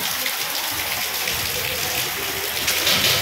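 Heavy rain pours down steadily and close, a dense unbroken hiss of drops hitting surfaces with no letup for the whole stretch.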